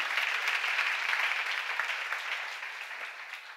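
A church seminar audience breaks into steady applause, many hands clapping together in a dense, continuous wash that fades slightly toward the end, with no talk over it.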